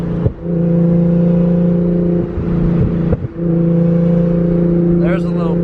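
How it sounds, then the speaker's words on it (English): A boat engine with a turbo holds a loud, steady droning note with a whirring whine on top, dipping briefly a few times, and a short voice comes in near the end. "I love the turbo noises, man."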